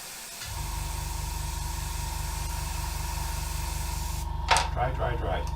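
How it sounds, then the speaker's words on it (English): Airbrush blowing air to dry paint thinners, a steady close hiss with a low motor hum throughout, ending with a short burst and faint voice. "just hit it with an airbrush and dry it."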